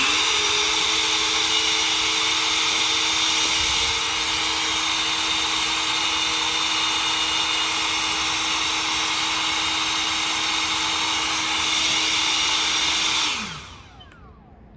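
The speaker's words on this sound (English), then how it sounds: "Currently, I've got the 765 sitting up there. We're going to put it on its highest setting without turbo mode, and we're going to see how loud it is" An Ego 765 leaf blower runs at its highest setting without turbo, a loud, steady whining roar with a constant high tone that holds for about thirteen seconds before spinning down abruptly to quiet.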